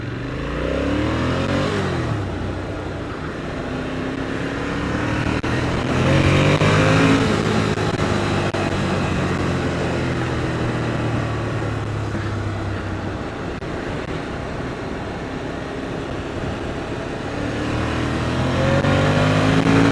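A road motorcycle on a chain drive revs and pulls away in rising engine sweeps, with gear changes breaking the climbing pitch, then eases off and builds speed again, loud and close throughout.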